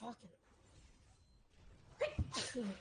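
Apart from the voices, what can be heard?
sneeze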